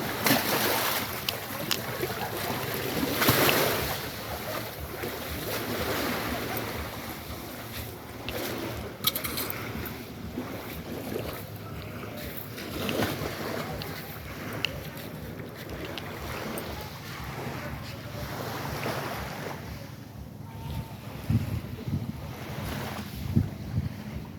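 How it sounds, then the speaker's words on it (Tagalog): Strong waves surge and break along a beach shore with gusting wind buffeting the microphone, a steady loud wash of surf rising in several heavier swells, with no voices. "Ay, basa, lakas ng alon."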